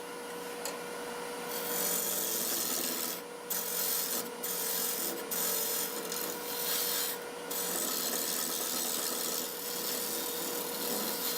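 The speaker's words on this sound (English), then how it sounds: "Parting tool." A parting tool cuts into wood spinning on a lathe while a spoon is being turned. The cut is a continuous close rasping scrape, briefly easing off several times before it continues.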